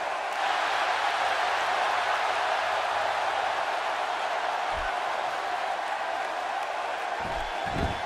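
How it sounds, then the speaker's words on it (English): Crowd noise in a wrestling arena during a match, a steady, dense roar of cheering that fills the whole clip at an even level, with a few low thumps near the end. "by the sound of this crowd, I think they're getting what they wanted"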